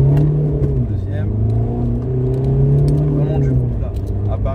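A diesel car with a 1.9 TDI engine pulls hard through the gears, its low engine drone climbing steadily and close inside the cabin while someone talks over it.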